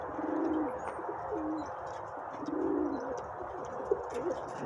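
Young pigeons coo in low, rolling phrases, two clear bouts close by over a steady background hum, with faint wing flutters and small clicks and no talk.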